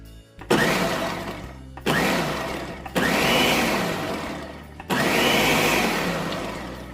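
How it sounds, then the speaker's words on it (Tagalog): A blender purées homemade cream of mushroom soup in four loud, close bursts, each a whirring roar that ends abruptly before the next begins, with no talking. "Para maging cream of mushroom siya, i-blend natin."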